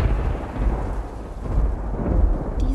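Deep rolling thunder from a lightning strike in a horror game, a sustained low rumble that swells and recedes for a few seconds, loud and close, with no voices.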